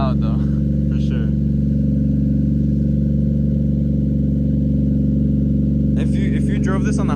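Close and loud, a Toyota Soarer engine idles steadily through a new exhaust, a constant low drone with no breaks, while voices speak over it briefly at the start and again near the end.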